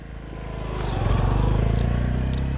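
A motorcycle engine starts and settles into a steady, close idle with a low rumble on the Sagarmatha Highway, growing louder over the first second and then holding.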